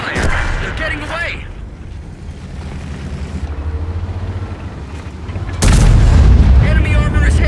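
A tank cannon firing in World of Tanks, the heavy boom breaking in loud near the end over steady engine rumble, with game voice lines heard earlier.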